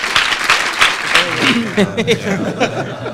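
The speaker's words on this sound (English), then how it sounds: "So let's give him a round of applause for working so hard." An audience applauds a Simpsons writer with a few seconds of clapping, and a voice talks over the clapping as it fades.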